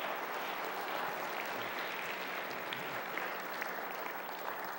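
Audience applause for Tiffany at a gathering, a dense, steady wash of many hands clapping at moderate distance, sustained evenly throughout with no voices rising above it.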